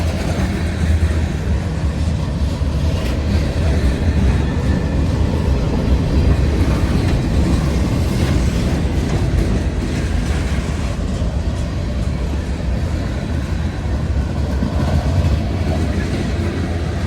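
A locomotive slowly passes pulling a long coal train, producing a continuous loud rumble and grinding roar of rolling wagons that holds steady close by with no voices.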